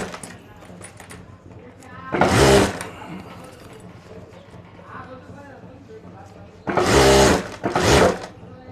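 A sewing machine stitches piping onto a homemade handbag in two loud, dense bursts, one short and one longer, with quieter handling and faint background noise between them.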